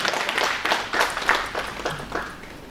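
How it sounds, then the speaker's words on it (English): An audience at a teachers' workshop on the National Curriculum Framework for School Education applauds a school vice principal, with ragged crowd clapping fairly close by that swells briefly and then thins toward the end. "I'll request you to give her a big round of applause"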